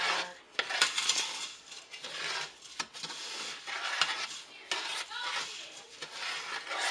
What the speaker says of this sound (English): You just gotta keep stirring